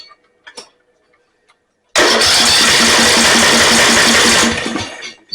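A Snapper 28-inch riding mower engine, being repaired for a starting fault with a switch disconnected, cranks and catches into a loud steady running roar for a few seconds, after some faint clicks.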